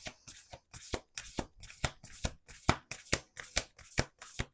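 Tarot oracle cards being shuffled by hand in a quiet room, about a dozen crisp riffling bursts in a fairly regular rhythm, close and soft with brief pauses between each.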